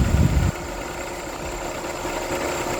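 Condenser fans on a Skoda Fabia MK1 run with a steady whirring drone, heard close after a brief louder low thump at the start.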